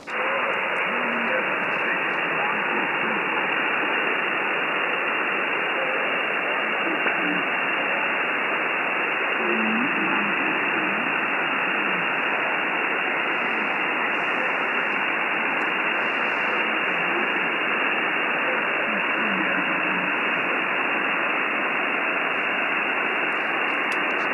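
Ham radio receiver hiss on an Icom 7610 with a DX Commander vertical antenna, a steady loud band of static filling the whole stretch with no clear voice breaking through as the weak signal sinks into the noise.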